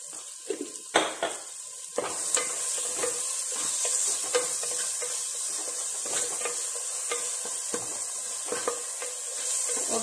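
Ginger, onion and tomato sizzle steadily as a tempering fries in a pan, with a scrape of stirring and occasional clinks of a utensil against the pan, close and continuous.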